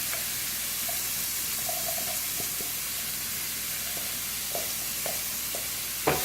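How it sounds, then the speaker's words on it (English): Chopped onions and minced garlic sizzle in a pan for chicken parmesan, a steady soft frying hiss with occasional stirring clicks and a sharper clatter near the end; no one talks. "all the onions and the garlic that we chopped, minced, however you did yours, goes in this pan right about now"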